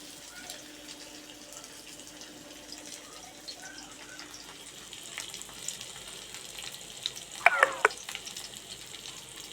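Fish frying in oil gives a soft, continuous bubbling sizzle at low level, with a few brief clinks and scrapes toward the end.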